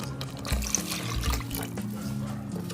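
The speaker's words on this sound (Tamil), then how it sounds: "போட்டு இந்த மசாலா தண்ணியவே ஊற்றிடலாம்." Masala water poured into a pot of rajma, a gentle splashing trickle of liquid up close, fairly quiet and unbroken, with no one speaking.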